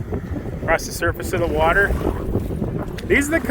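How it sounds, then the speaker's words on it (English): Gusty squall wind rushes over open lake water during a thunderstorm, blowing steadily against the microphone while a person speaks close by over the noise. "It's so windy."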